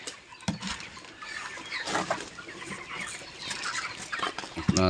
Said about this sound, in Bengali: মুরগি খাওয়ার জন্য অপেক্ষা করতেছে